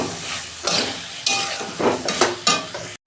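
Spices and oil sizzling in a pan for a soybean curry, stirred with a spoon in repeated scraping strokes over a steady frying hiss, close and fairly loud.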